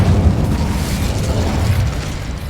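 A Confringo blasting spell explodes in Hogwarts Legacy, giving a loud, sustained rumbling blast with dense low-end roar that lingers across the moment without speech.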